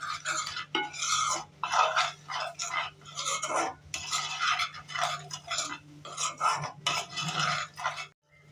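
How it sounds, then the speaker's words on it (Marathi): Unsweetened cocoa powder being stirred into chocolate cake batter with a spoon in a bowl, producing steady rhythmic scraping and rubbing strokes, close and clear with no talking. "गोठळा होऊ द्यायचे नाही आपल्याला. छान मिक्स करून घ्यायची आहे."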